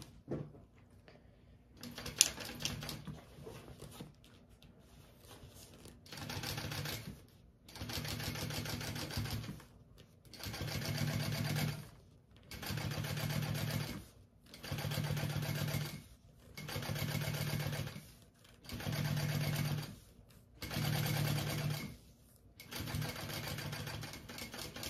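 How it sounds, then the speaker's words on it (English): A sewing machine top stitching along a bag panel through the seam allowance, running in about nine even bursts of steady whirring with short pauses between, close and alone. "we are going to top stitch along this top panel piece through that seam"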